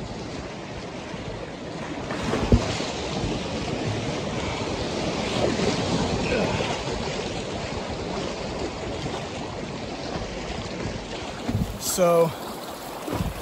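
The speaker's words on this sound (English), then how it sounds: "I've had about 2 miles or so of straight white water" White-water rapids in Pine Creek Gorge rush and churn around a Sea Eagle Explorer 3 inflatable kayak, a constant close roar of water with some wind buffeting on the microphone and a brief word of speech near the start.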